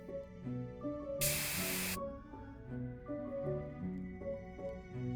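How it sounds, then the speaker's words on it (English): A short, loud burst of spray hiss from an aerosol can, about a second long, over continuous game music. "Noah immediately starts spraying."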